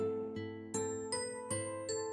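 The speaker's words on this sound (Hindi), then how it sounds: "घंटी बजती है।" A household doorbell chiming in a bright, bell-like pattern, several ringing strikes about a third of a second apart with tones overlapping and sustaining, clear and moderately loud.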